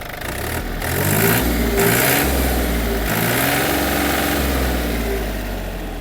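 A Yanmar FX-255 Japanese mini tractor's small diesel engine revs up from idle, pitch climbing and dipping in a few throttle surges before settling back, close and fairly loud.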